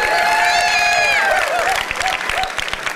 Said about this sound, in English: Y'all need to clap just a little bit longer for the old guy